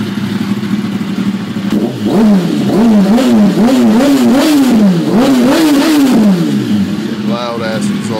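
A 2004 Yamaha R1 sport bike with a Two Brothers slip-on exhaust revs repeatedly nearby, about five or six quick rising and falling throttle blips in a row, loud and raspy, then settling back to a rough idle.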